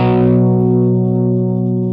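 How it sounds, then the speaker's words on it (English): Electric guitar power chord played with distortion, a single loud, thick, buzzing chord struck once and left to ring steadily for about two seconds. "it sounds like rock guitar power chords."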